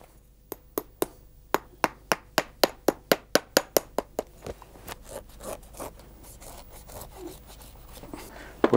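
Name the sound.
hammering nails into handmade leather sandal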